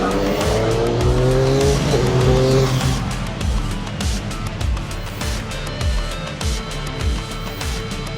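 A Triumph motorcycle rides hard on a race track, its loud engine revving steadily with rising and falling pitch and repeated gear-shift sweeps, close and continuous throughout.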